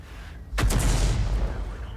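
A single heavy artillery gun fires in a World of Tanks-style game, such as the SU-14-2 or SU-8 self-propelled gun: one sudden loud boom after brief quiet, then a deep rumbling decay that lingers.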